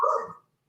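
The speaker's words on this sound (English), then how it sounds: "like it's your dog just barking" A single short dog bark, close and fairly loud, ends abruptly and leaves silence behind.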